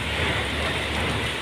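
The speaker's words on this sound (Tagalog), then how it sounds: "Nakabutan na po kami ng ulan." Steady rain falls outdoors at a Navotas base, a dense, even hiss that stays loud and unbroken throughout with no voices.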